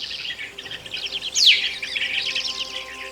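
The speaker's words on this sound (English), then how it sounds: "The blue-tailed bee-eater," Blue-tailed bee-eater calls, a run of quick bright chirps and trills close by, with one sharper rising call standing out in the middle.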